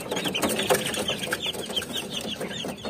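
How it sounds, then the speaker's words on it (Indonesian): Bangkok game chickens in battery cages cluck in a busy run of short, overlapping calls, fairly close and steady throughout, with a few sharper squawks standing out. "Ini ayam Bangkok"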